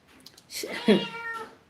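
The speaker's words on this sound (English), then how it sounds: "The cat is making some noise" A pet cat gives a single drawn-out meow, close and fairly clear, with faint background noise around it.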